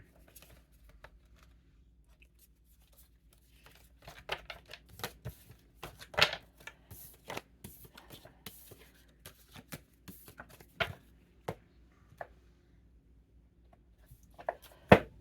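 Tarot or oracle cards shuffled and pulled for a reading, giving a run of soft, irregular riffling clicks and slaps that grow busier midway, with a sharper snap near the end and no talk over them.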